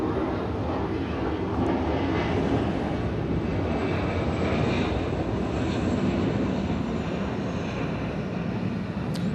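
Korean Air Flight 33 airliner arriving from Incheon at Atlanta, its steady jet engine roar filling the air loud and near throughout, with no talk over it.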